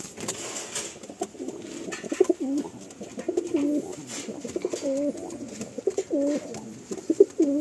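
Pigeons in a loft coo in soft, repeated throaty phrases, close and clear, with brief rustles between calls and no talking.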